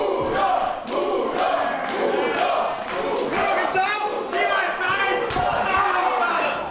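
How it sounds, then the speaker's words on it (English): A British wrestling show crowd chants a mocking variation of wrestler Pascal Spalter's surname in a loud rhythmic call, mixed with thuds from the ring and general crowd noise. "The crowd again being somewhat unkind with their variation on Spalter's last name."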